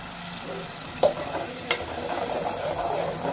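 Paste of cashew, poppy seed, coriander and tomato added to fried onions in a pan for chicken fry, giving a steady moderate sizzle with a couple of sharp clinks of a stirring spoon, no talking.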